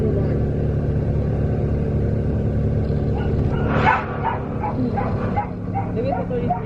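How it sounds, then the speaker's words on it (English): An upset puppy whimpers and yips inside a moving car, heard under steady road and engine rumble with people talking, the whines rising sharply at one point and then continuing in shorter cries. "As you can hear in the background, one of the puppies in the car is upset."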